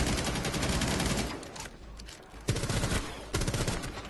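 Heavy automatic gunfire in Rainbow Six Siege, sustained loud volleys with a brief lull midway, then two sharp renewed bursts of shots.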